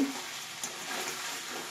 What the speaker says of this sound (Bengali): অনেকক্ষণ ধরে আমি এটা ভাজছি